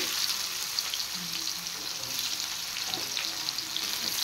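Chopped onions fry in a pan with black cumin seeds, giving a steady, close hiss of sizzling oil with small crackles and a few faint stirring scrapes, heard alone without speech.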